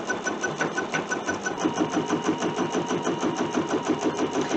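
A machine quilter stitches an edge-to-edge design across a block-of-the-month quilt, producing a steady, rapid mechanical whir with fast repeating needle pulses, close and continuous throughout with no talk.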